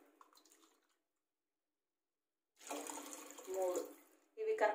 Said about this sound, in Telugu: పెసరపప్పుకి సరిపడినంత ఎసురు వేయాలి నీళ్లు కొలతతోటి